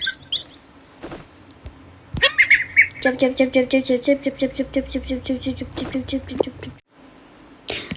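Little ducks from the Toca Boca game quack in a fast, even chattering series lasting several seconds, close and clear, with a voice talking before and alongside the calls.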